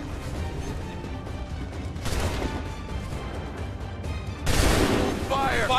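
Musket volley fire in an Assassin's Creed 3 battle, dense bursts of crackling shots layered over continuous battle noise, with a louder volley swelling near the end while voices shout commands.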